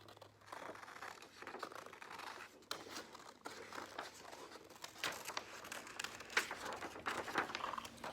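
Scissors cut a wing shape out of thin craft material for a tin can bird, a continuous close stream of snipping and crinkling that picks up slightly toward the end, with no talking.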